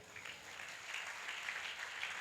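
Crowd applause from a church congregation during a Sunday service in Ramagundam, a steady broadband patter of many hands clapping at a fairly faint, even level without pause.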